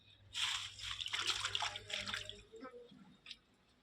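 Spinach and mustard greens being washed by hand in a basin of water, with close sloshing and dripping splashes in uneven bursts that fade toward the end.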